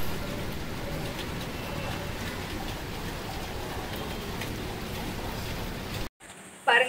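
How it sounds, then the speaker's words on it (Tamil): Heavy rain pours down outdoors in a dense, steady hiss of drops spattering on surfaces, loud and unbroken for several seconds before cutting off abruptly. "பாருங்க, செம்மையா மழை பெய்யுது வெளியில"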